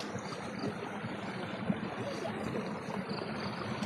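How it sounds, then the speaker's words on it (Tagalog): Water from a mountain stream in Buscalan Village, Kalinga, Philippines rushes in a steady, unbroken wash, close and moderately loud, with no talk over it. "Yung parang tunog ng tubig galing sa kabundukan."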